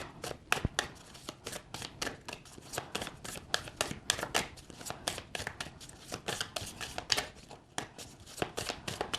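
Tarot cards being shuffled by hand, a steady rapid riffle of crisp card flicks running continuously at moderate volume, close up, without talk.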